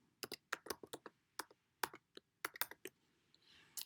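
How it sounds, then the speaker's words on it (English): Keys clack on a computer keyboard as a password is entered, giving quick, close, uneven taps in short bursts, followed by a faint pause at the end. "Type in password."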